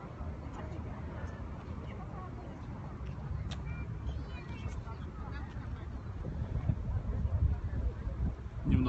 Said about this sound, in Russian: Немножко ветрено, но связь вроде в этот раз хорошая.